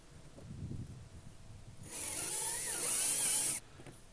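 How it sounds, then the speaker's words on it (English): A power drill whirs a pocket hole into a long wood board for nearly two seconds, a bright grinding buzz that stops abruptly, preceded by a few soft handling knocks. "then you can drill your pocket hole"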